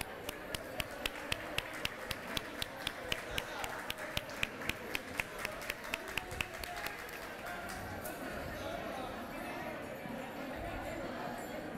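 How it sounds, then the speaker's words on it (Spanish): Rhythmic audience clapping welcoming Easter Island performers at a school patriotic celebration, steady in-time claps for several seconds that fade into a diffuse crowd murmur and scattered applause, with voices underneath. "Los recibimos con un fuerte y cariñoso aplauso."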